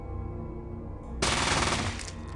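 An automatic weapon in the video game Fallout fires one loud, rapid burst of about a second that starts abruptly and cuts off, over a steady low game background hum.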